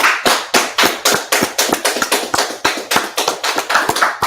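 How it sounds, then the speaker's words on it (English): A group of people clap in a steady, rhythmic unison, about fourteen sharp claps in quick succession, loud and close with no talk over them. "let's clap it up."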